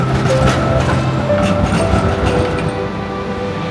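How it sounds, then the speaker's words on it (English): A tram arriving in Melbourne rumbles steadily close by, with a continuous low roar and faint metallic rail tones, loud and sustained throughout. "there's like a tram coming in every 5-10 minutes"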